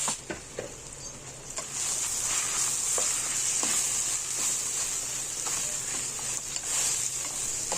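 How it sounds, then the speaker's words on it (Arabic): Rice frying in a pot until it browns, stirred now and then: a steady, close crackling sizzle throughout, with occasional scraping clicks from stirring. "تحمري وتشوحي في الرز لغايه اما ياخد معانا اللون البني."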